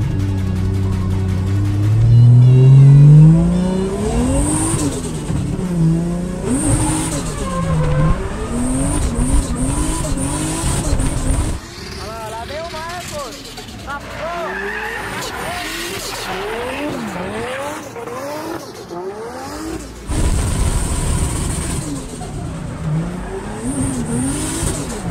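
A Nissan 350Z revs hard and drifts, its loud engine rising and falling in pitch while the tires squeal, moving from very near to somewhat farther away and back.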